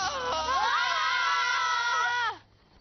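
A long, high, sustained scream rings out loudly and alone for over two seconds, then cuts off abruptly.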